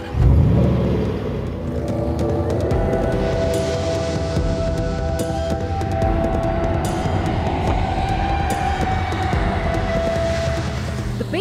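A 2018 Range Rover Sport SVR with its 5-litre V8 accelerating hard, a loud rising engine roar with a deep rumbling exhaust heard close up and continuously, without any talk.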